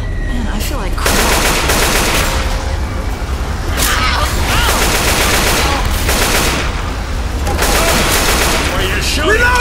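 Rapid, loud automatic gunfire from Left 4 Dead 2 rattles in sustained bursts with brief gaps, close and dense, while voices call out over the shooting.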